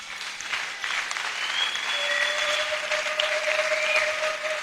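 A church congregation applauding, a dense sustained wash of clapping that swells after the first second and continues evenly, with a faint high whistle or tone drifting above it.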